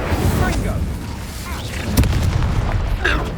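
Incendio fire spell cast in the game Hogwarts Legacy, a few dull booming bursts under busy battle noise with spoken voices.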